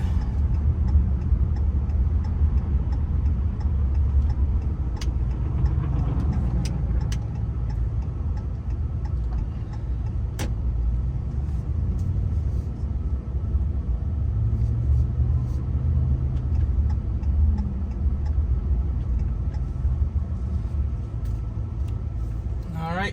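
A 2017 Ram 1500 pickup truck, loaded with tin and shred scrap, drives and makes a U-turn near a scrap yard. Its engine gives a steady, low, continuous rumble with a few faint ticks over it.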